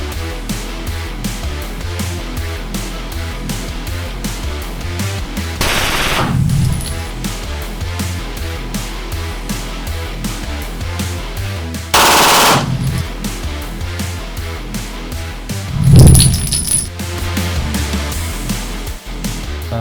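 Full-automatic gunfire at a forensic firing range: a loud, fast rattle of shots throughout, with several heavier blasts standing out, and no talking.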